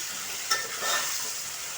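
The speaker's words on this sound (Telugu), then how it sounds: "ఇదిగోండి టమాటాలు కూడా వేగిపోయినాయి" Chopped tomatoes sizzle in a pan for Andhra-style fish curry, a soft continuous frying hiss with a faint stir or two, close and quiet.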